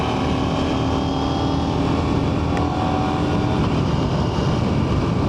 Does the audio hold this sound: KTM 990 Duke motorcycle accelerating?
yes